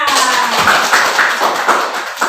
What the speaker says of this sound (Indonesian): kelompok 2, mana tepuk tangannya?